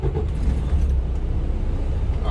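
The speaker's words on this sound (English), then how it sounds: "we'll start our truck." A manual transmission truck engine, just started from inside the cab, settles into a steady, close, low rumbling idle with no talking.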